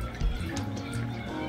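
Water poured from a container into a pan over pork chops with gravy, a steady close splashing and trickling stream that runs throughout with no talk.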